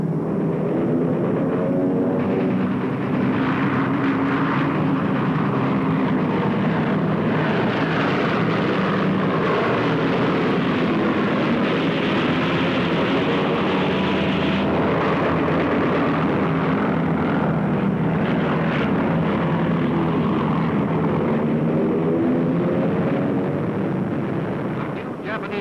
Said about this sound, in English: Maintaining low altitudes will bring the airplanes in under their radar beams.